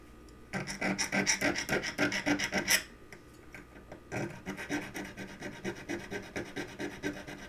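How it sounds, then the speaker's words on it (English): Steady back-and-forth rasping of a hand file on wood, a fast regular rhythm of strokes, close and clear, pausing briefly before resuming. "I'm just filing this straight because I didn't do a great job sawing."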